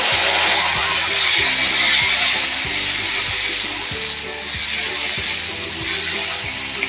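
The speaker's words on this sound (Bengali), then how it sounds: "হিঙের সাথে আমি একসাথে দিয়ে দিচ্ছি টমেটোটা" Tomato tipped into hot oil with asafoetida and lightly fried cumin seeds, sizzling loudly and steadily with a bright hiss throughout, cooking for a millet khichdi, with no talking.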